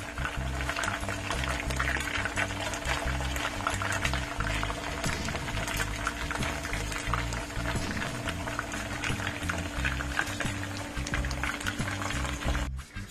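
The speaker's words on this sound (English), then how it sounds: "Let me just have a steam this real quick in the microwave." A microwave runs while steaming baby eggplant, giving a steady, close electrical hum with a whirring drone that stays even and unbroken throughout, with no talking.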